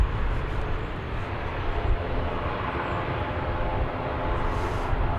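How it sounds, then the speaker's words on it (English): A Viva Aerobus airliner taking off at Dallas/Fort Worth airport, a steady, loud jet-engine roar that holds broad and constant throughout with no voices. "so we can see the colorful Viva Aerobus taking off"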